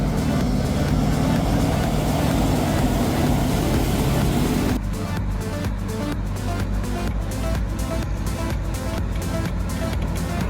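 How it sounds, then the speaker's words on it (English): A ZL-131 wheel loader's engine roars loudly and continuously as its huge wheels plow through deep, flooded mud. A dense, steady roar gives way midway to a rhythmic, pulsing churn that holds to the end. "The engine roared like thunder. The huge wheels plowed through deep mud, spraying up water."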